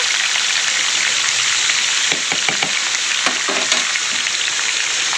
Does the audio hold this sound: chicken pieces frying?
yes